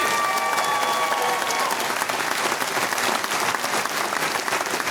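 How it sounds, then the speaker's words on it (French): A television game-show audience applauds steadily and loudly, dense clapping from a large crowd that holds at an even level throughout. "Donnez-vous une bonne main d'applaudissement à tout le monde d'être là."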